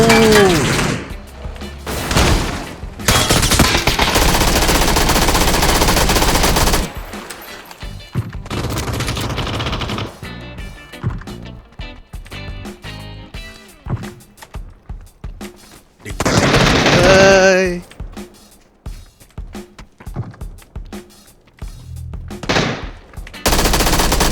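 Heavy PUBG video game gunfire: long bursts of automatic fire and scattered single shots, loud and close, broken by quieter gaps and some player chatter.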